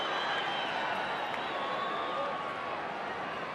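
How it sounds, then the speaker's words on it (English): A large rugby league stadium crowd roars in delight after a penalty goes to Newcastle, a dense, sustained wash of cheering voices filling the whole moment. "Brings a roar of delight from the crowd."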